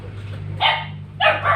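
Two sharp dog barks ring out close by, the second a quick double yap, over a low steady hum.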